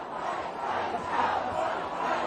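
A large crowd of protesters fills a city street with a loud, continuous roar of overlapping shouting and chanting voices, swelling slightly in the middle.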